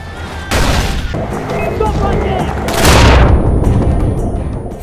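Weapons fire in the video game Far Cry 4: loud, dense volleys of gunshots and booming blasts, with a heavier surge near the middle, continuous and with no talking.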